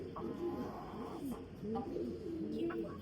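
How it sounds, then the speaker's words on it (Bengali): Pet pigeons coo repeatedly in soft, rolling calls at a household coop kept alongside chickens, with several overlapping voices and a low background murmur. "আচ্ছা, এখানে তো তোমাদের অনেকগুলো কবুতর রয়েছে দেখলাম"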